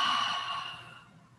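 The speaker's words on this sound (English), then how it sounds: "Super loud exhale." A loud, breathy exhale during a restorative yoga session, strong at first and then trailing off into quiet over about a second, heard alone with no talking.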